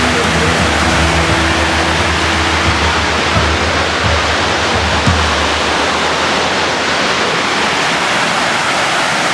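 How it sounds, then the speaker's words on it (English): Miner's Falls at Pictured Rocks roars as a loud, continuous broadband rush of falling water, close and steady, with faint voices beneath. "Miner's Waterfall."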